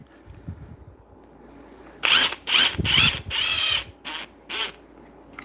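A DeWalt DCF 860 impact driver fires in about six short, loud bursts of rapid hammering whine with brief gaps between them, following a quiet stretch of low background noise.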